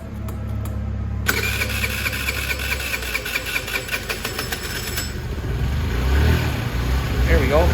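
A 50cc Venom scooter that has sat unused for a long time cold-starts, cranking briefly before firing up and settling into a loud, close, buzzing idle that rises slightly toward the end.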